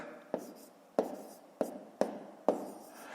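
Numbers written by hand for a fifth-grade maths exercise: five short, crisp strokes at an uneven pace, each tap sharp and close, then briefly trailing off, over faint room quiet.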